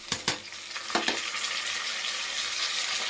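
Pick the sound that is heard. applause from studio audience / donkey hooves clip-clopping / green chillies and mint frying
green chillies and mint frying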